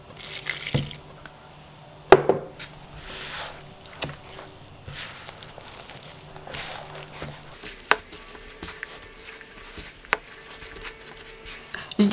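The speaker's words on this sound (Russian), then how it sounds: "Итак, начинаем добавлять воду." Water is poured into dough for Ossetian pies as it is kneaded, giving soft wet squishes, drips and slaps at close range, irregular and fairly quiet, with a steady low hum underneath.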